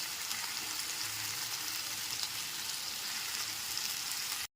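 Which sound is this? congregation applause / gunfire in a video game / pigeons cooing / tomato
tomato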